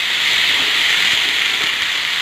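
Flat beans, potatoes and green tomatoes fry in hot oil, giving a loud, steady, close sizzling hiss with no pauses.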